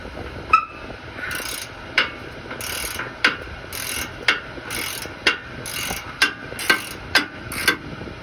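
A ratchet wrench loosening a tight exhaust clamp on a truck gives a close, loud, rhythmic run of clicking strokes that repeat steadily for several seconds with no talk.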